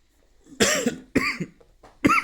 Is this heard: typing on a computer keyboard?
no